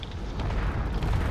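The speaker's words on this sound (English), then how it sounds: "Massive explosion." A massive explosion in the Drone Wars combat video game as a damaged cruiser is hit, a loud low rumbling boom that sustains with a rough, noisy roar throughout.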